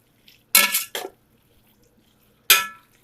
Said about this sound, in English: Mix this around a little bit.